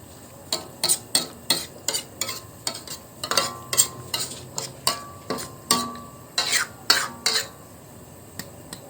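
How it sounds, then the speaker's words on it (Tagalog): Spoon stirring a pot of simmering coconut milk stew with papaya and fish, a steady run of short scraping strokes against the pot with a soft sizzle underneath. "halu-haluin lang natin paminsan-minsan para hindi mamuo ang gata at hindi rin masunog ang ilalim"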